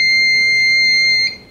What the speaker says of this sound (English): Settings will be saved and an alarm will sound to confirm changes.